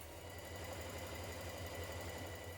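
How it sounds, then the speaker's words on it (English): A sewing machine runs quietly and continuously, its rapid needle chatter sewing a line of ease stitching around the cap of a jacket sleeve, faint and close, with no talking. "Now we're going to sew a line of ease stitching around the cap of our sleeve here at the top."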